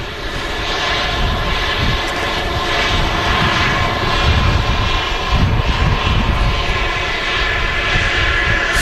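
An aircraft taxiing at Manchester Airport, its engines a loud, steady roar close by with a broad hum that rises slightly toward the middle and continues unbroken.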